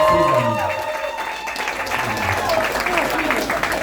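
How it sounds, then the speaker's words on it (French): Audience at a party applauding, a busy wash of clapping throughout with voices talking and cheering over it. "que je vous prie d'applaudir"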